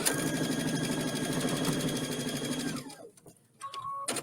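A sewing machine stitching across fabric for a popcorn gift bag, with a close, steady rapid whirring and clatter that runs for about three seconds and then stops, followed by a few light clicks and handling noises.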